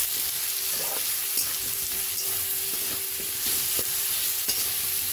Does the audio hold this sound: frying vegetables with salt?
yes